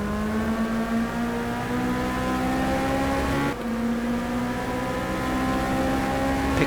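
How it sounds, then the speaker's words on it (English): Formula R 2.0 racing car engine in a sim racing game at Okayama, a steady loud harmonic whine climbing gradually in pitch as it accelerates, with a brief dip mid-way from a gear change, no talk. "Picking up the throttle there very nicely."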